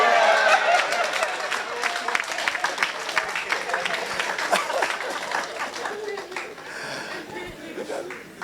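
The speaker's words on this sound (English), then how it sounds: "Let's a huge round of applause for" Audience applause at a talk on a professional journey, loud at first with scattered claps and a few laughs and cheers, gradually thinning as the clapping tapers off.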